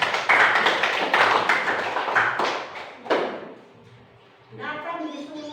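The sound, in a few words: clapping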